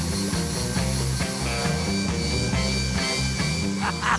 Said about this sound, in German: Eine Bohrmaschine treibt die selbstgebaute Maggi-Mischmaschine an.